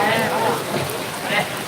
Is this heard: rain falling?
yes